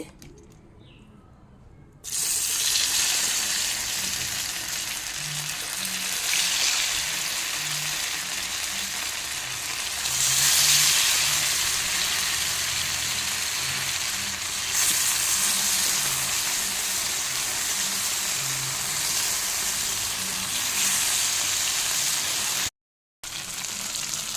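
Fish fries in a pan over a wood-fire stove, giving a steady, close sizzle that runs almost unbroken, with a brief dropout near the end and no talking.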